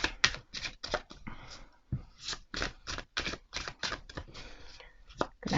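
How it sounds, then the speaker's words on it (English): Tarot cards of thick, non-gliding cardstock being shuffled by hand, a rapid series of riffling, slapping bursts in quick succession, close and fairly quiet with no talking. "Gonna have to do this a few times to"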